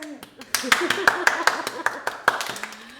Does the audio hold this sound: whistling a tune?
no